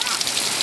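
Rain falls outdoors in a steady, dense hiss of drops hitting surfaces, with nothing else standing out during the brief moment.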